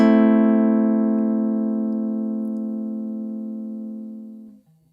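A single chord on a Chapman Stick rings out loud and steady, its bright harmonic tone slowly fading over about four and a half seconds before cutting off, with no voices.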